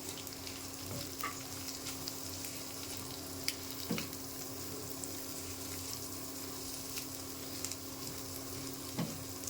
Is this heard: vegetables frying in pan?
yes